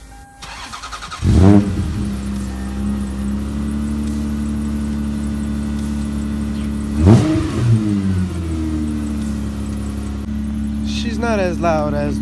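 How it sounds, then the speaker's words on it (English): A 1999 Toyota Solara/Camry TRD engine cold-starts with a sharp crank and catch, then settles into a steady, fairly loud fast idle with two brief revs partway through, close by. "right now I'm gonna give you guys a cold start"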